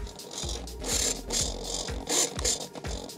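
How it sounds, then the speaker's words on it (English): An elevator servo on an E-flite Icon A5 RC plane whirs and clicks in short ratcheting bursts, several quick mechanical movements in a row, close and fairly quiet with no talk. "That's the sound of the elevator working."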